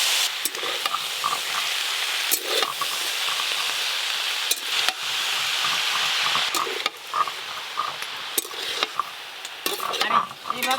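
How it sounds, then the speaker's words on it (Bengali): Spinach is stirred into potatoes and taro frying in a pan, with a continuous sizzle broken by frequent scraping and clinking of a utensil against the pot. "কেটে ধুয়ে রাখা পালং শাকগুলো দিয়ে মিশিয়ে নেব"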